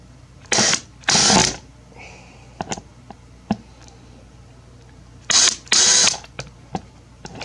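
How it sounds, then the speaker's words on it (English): A cordless drill backs screws out of a Bowflex adjustable dumbbell with short whirring bursts that come in two pairs. Faint clicks and handling noises fill the pauses between them. "I'm just going to grab the cordless, remove these 4 screws."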